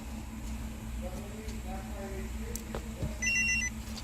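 A short series of electronic warning beeps from a 2013 Nissan Maxima near the end, high and evenly spaced, with a warning light, over a steady low engine-like hum.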